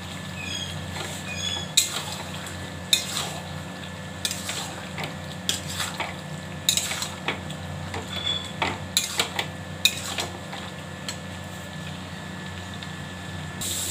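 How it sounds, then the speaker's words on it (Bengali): Chicken tipped into a pan and stir-fried with spices for a home chicken curry, with faint sizzling under repeated scraping and clinking of a utensil against the pan at an irregular pace. "এবার চিকেনটা দিয়ে দিচ্ছি, পুরো থালা ধরে দিয়ে দিচ্ছি।"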